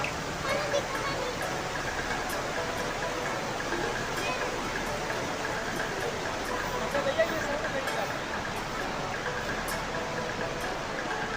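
The Neelam river at Kohala in Kashmir rushes past in a steady, dense roar of flowing water that stays even throughout, with voices faintly mixed underneath.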